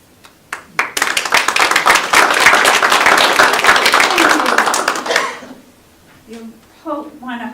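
An audience at a Connecticut poets laureate reading breaks into applause. A few scattered claps build into roughly four seconds of full, close clapping, which then fades out before a person starts speaking.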